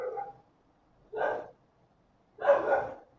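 A dog barks outside in three short, separate bursts spaced about a second apart, moderately close and standing alone against near silence.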